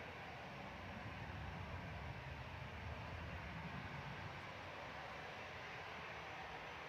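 Airbus A320 airliner positioning at an airport, its engines giving a steady, continuous broadband roar that holds at the same loudness throughout without letting up.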